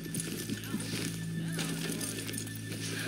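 Horses in a town in the Red Dead Redemption 2 video game whinny and shuffle their hooves nearby, steady clip-clop under a continuous low game hum.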